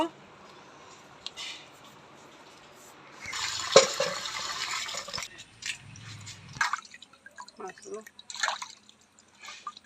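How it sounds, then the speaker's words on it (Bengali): Prawns and catla fish rinsed in water in a home kitchen: splashing, dripping and sloshing bursts, loudest in the middle, then lighter trickles and drips, with a voice speaking at times. "এটা চিংড়ি, এটা কাতলা, এটা এখন ধুয়ে নেব।"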